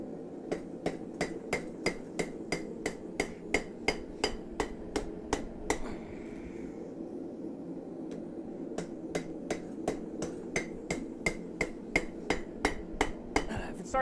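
Metal is hammered on an anvil while a bottle opener is forged: a rapid, evenly spaced series of sharp ringing strikes, pausing briefly midway before the steady blows resume, close and clear.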